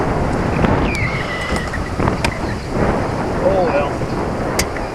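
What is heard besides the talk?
strong wind on a lake while fishing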